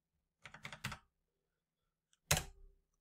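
Keystrokes on a computer keyboard during Unity coding: a quick cluster of four or five close clacks, a second of silence, then a single firmer press like the enter key, near and alone.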